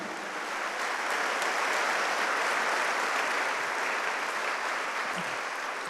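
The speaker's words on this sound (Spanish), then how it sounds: "Dale un fuerte aplauso al Señor." A church congregation claps together in loud, sustained applause that holds steady for several seconds as a dense wash of hands, with no voices standing out.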